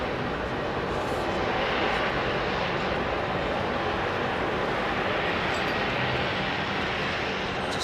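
An Airbus Beluga XL departs Heathrow Airport, its jet engines producing a loud, continuous broadband roar that holds steady for the whole stretch, with no pauses.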